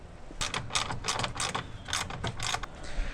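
A ratchet wrench clicks in quick repeated bursts while loosening fan bolts on a Mustang, each swing giving a close, sharp run of pawl clicks separated by brief pauses.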